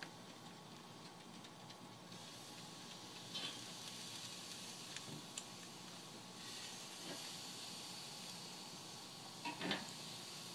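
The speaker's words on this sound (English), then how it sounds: "I'm getting ready to put these baby Italian squashes on the grill." Balsamic-marinated baby Italian squashes sizzling on a grill, a faint, steady hiss with occasional small pops and crackles.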